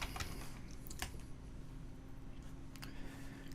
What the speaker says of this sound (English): I'm simply going to type in maps